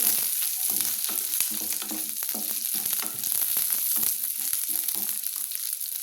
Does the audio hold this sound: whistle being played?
no